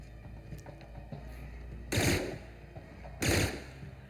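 Two short bursts of gunfire from The Outer Worlds, each a loud dense blast lasting a fraction of a second, separated by about a second over a low, steady game background.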